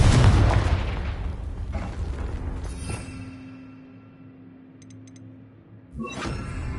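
A Confringo fire spell explodes in Hogwarts Legacy with a loud, heavy boom right at the start that rumbles and fades over several seconds, then a second thump hits near the end.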